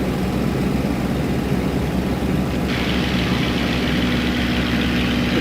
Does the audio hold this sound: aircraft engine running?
yes